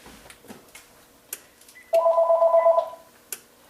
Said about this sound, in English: let me get rid of that phone call.